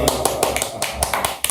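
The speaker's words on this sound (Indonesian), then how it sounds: "Tepuk tangan." Sharp hand claps in a steady rhythm, about eight or nine of them, close and fairly loud over a low background hum at the start of an Indonesian talk show.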